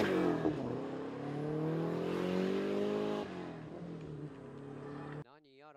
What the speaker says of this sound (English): Some strange car started running.